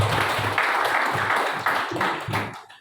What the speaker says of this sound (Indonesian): Aplaus bersama semangat.